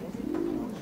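Pigeons coo in a soft, low, rolling call that swells in the middle and tapers off, lasting under a second and heard at moderate distance against a quiet indoor background.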